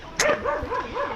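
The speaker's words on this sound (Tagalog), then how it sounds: "May aso." A dog on a farm gives a loud, close bark followed by a couple of shorter yips and whimpering calls over about a second, with no talking.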